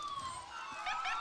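The Stoddard County Ambulance District's ambulance siren wails during the county fair parade in southeast Missouri, a sweeping tone heard at moderate distance and fairly faint, with no talk.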